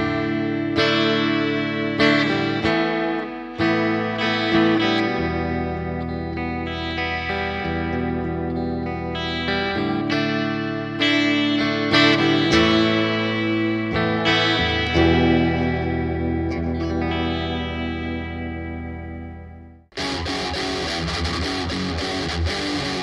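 Clevan CTD-20 electric guitar with an agathis body, Canadian maple neck and rosewood fretboard, played through effects. Rich sustained chords and picked notes ring with a chorus-and-echo shimmer for about twenty seconds, then cut to a brighter, harsher distorted passage.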